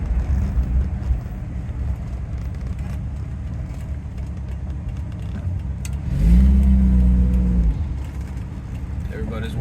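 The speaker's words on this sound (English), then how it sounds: "the engine sounds rough because of the exhaust leak" A Rolls Royce Silver Shadow engine idles roughly with an exhaust leak, then revs up in a single swelling burst before settling back, close and steady beneath some talking.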